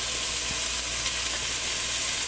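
Onions sizzle in a frying pan with a loud, constant hiss that runs unbroken for the whole moment.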